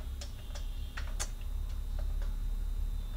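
A run of separate keystrokes on a computer keyboard while writing a singly linked list C program, crisp clicks in irregular bursts, fairly close and moderately quiet over a steady low background hum.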